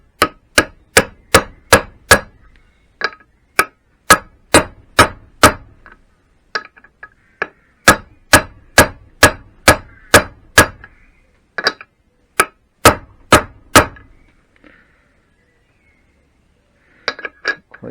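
A socket taps metal on the outer gearbox casing of a Triumph Bonneville in bright, clinking bursts of rapid strikes, loud and close, separated by short pauses and ending with a few scattered taps.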